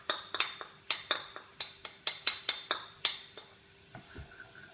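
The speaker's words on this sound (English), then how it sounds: "Give it a little stir" Onions and ginger stirred in a saucepan with a metal utensil, a series of about fifteen sharp clinks and scrapes in an uneven rhythm, close and clear, followed by a softer sizzle near the end.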